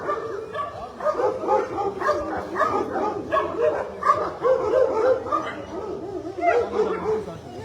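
A pit bull at a dog shelter barks, yips and whimpers almost without pause, close and excited, with a person's voice mixed in among the dog's sounds.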